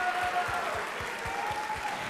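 Applause for a teacher at a school spring assembly for upperclassmen, a fairly faint, steady patter of clapping from a crowd with a few distinct rhythmic claps standing out.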